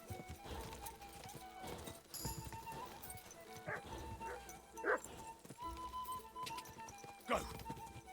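Horse hooves clip-clopping at a steady pace in Kingdom Come: Deliverance II, with a whinny and other game sound effects mixed in around them.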